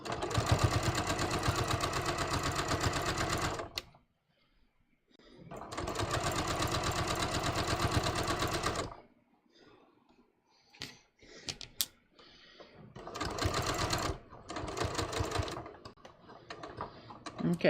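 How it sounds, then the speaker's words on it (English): A sewing machine edge-stitches a welt pocket in three close bursts of rapid, even whirring, with pauses between them where a voice speaks. "edge stitch this very close to the bottom"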